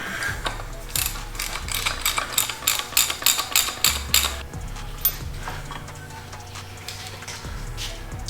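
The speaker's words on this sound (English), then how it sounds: "We're gonna have to try and get in there with a wrench." Ratchet wrench working loose 13 mm bolts behind the injection pump during a teardown of a Jeep Liberty 2.8 CRD diesel engine, a steady run of rapid mechanical clicks and ratcheting bursts, fairly close, with no talk.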